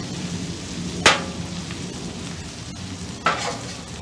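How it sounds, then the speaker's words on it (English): Marinated onions and skirt steak sizzle on a flat top griddle, a steady frying hiss broken by two sharp bursts as food is moved or added. "Get all these extra onions that were marinating on the steak in here."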